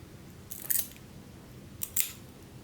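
A hand tool nibbling off the edges of cut glass gives two short, crisp snaps about a second apart, close and fairly quiet, with no talking.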